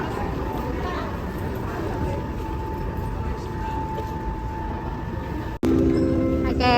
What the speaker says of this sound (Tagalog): Baggage train.